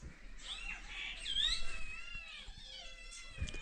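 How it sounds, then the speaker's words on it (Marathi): Cats yowl and wail outdoors on a farm in the morning, drawn-out rising and falling cries that overlap, with faint bird chirps behind them. "बाहेर आलं की मांजरांचा कालवा चालू आला."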